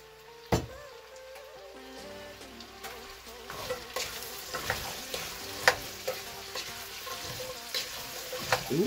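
A spoon stirs a pumpkin and carrot cream in a pan, making soft scraping and irregular light clinks over a faint continuous sizzle, close by and without talk.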